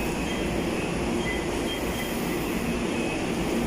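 An MRT train passes at Ortigas Center in the early morning, a steady, loud rumbling roar of rail cars that stays continuous throughout, with no voices.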